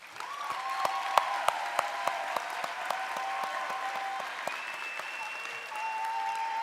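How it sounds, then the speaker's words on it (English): Sustained applause from an audience honoring fall nursing graduates at a college graduation ceremony, steady dense clapping throughout with a few louder individual claps and faint tonal sounds in the background. "let's have one more round of applause for all of our graduates this fall."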